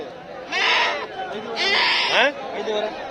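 Young sheep and goat kids bleat at a weekly Wednesday morning livestock market in Honnalli, Karnataka, with two loud, wavering calls close by and a shorter one at the end over a low murmur of market chatter.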